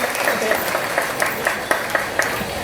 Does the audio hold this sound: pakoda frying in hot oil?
no